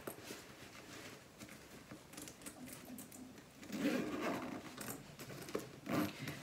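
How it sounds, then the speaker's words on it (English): Double pull zippers on a toiletry bag being closed, a soft scratchy zipping that grows louder toward the middle, with quiet handling of fabric around it. "you want to close it, and then you can close your zippers"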